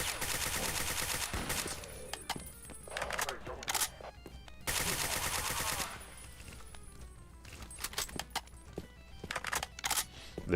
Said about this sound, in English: There's a 9 that is silenced that is just a freaking buzzsaw.